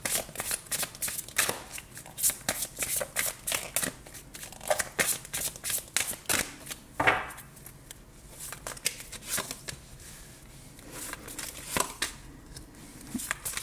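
Tarot cards shuffled by hand for a reading, a dense run of quick riffling and flicking card sounds close up that carries on steadily with brief pauses and no talk.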